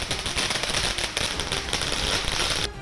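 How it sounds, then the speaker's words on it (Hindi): Fireworks set off in celebration by party workers gathered outside a house after an election win, a dense, continuous crackling barrage of rapid pops and bangs, loud and close, with no talk. "आतिशबाजी शुरू कर दी।"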